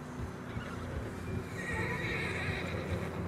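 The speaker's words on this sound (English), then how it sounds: "Horses are getting tired." A horse in the Western video game Red Dead Redemption 2 whinnies while hooves clop along on fresh snow on a narrow trail, with a faint wind bed underneath.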